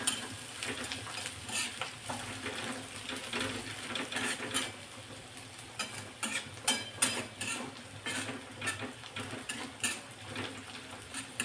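Ginger stir-fried on full flame for veg momo filling crackles with a busy sizzle and repeated rhythmic scraping of a spoon against the pan.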